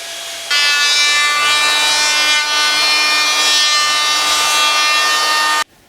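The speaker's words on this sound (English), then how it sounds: "I sand down the blank epoxy a little bit before I glue the pieces together." Sanding epoxy-coated wooden parts for a catamaran build, one steady loud abrasive whirring with a strong hum that runs without a break for about five seconds, then stops abruptly.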